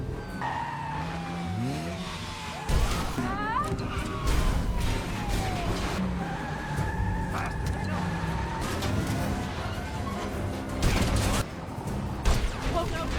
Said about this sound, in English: Bryan has Kim drive while he returns fire.